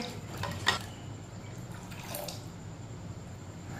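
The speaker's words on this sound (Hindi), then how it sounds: "अब इसमें पानी डाल लेंगे।" Water is poured into a sweetened tamarind juice mixture, giving a soft, faint trickle and splash with a few small clinks, heard without talk.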